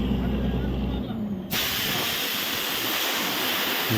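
A borewell rig flushes soil out of the bore with compressed air, a loud continuous roaring hiss that bursts in suddenly after a lower engine drone, with someone talking over it.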